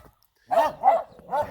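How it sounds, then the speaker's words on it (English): Dogs barking at someone walking past houses in Ukraine, three loud, close barks in quick succession after a short silence. "I have to walk by some angry dogs"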